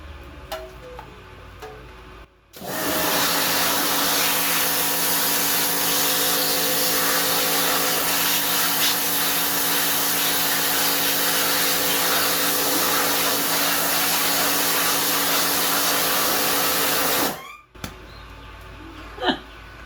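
A pressure washer blasts a rusty 1984 Sabre gas tank, a loud steady roaring spray running for about fifteen seconds and cutting off abruptly, with quieter background before and after.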